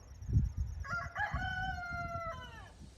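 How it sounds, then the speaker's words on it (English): A farm rooster crows once, a clear drawn-out call that rises and then trails off, fairly near, over a low rumble of background noise. "They get down and nibble at some grass, but they mostly just hang out on that perch and crow."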